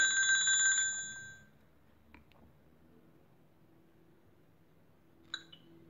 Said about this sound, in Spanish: si los tocamos lo que va a suceder es que el teléfono va a empezar a sonar